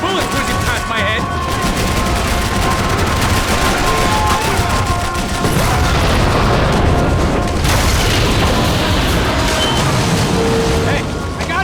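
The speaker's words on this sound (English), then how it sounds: "I can't concentrate with bullets whizzing past my head!" Dense gunfire fills a firefight in the Max Payne 3 video game, with continuous loud bursts, booms and bullets whizzing past, and shouted voices mixed into the chaotic barrage.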